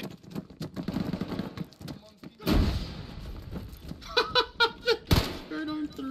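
In the military shooter Arma, a frag grenade bursts with a heavy, muffled thump, surrounded by scattered gunfire and a second sharp blast, while players talk over the action.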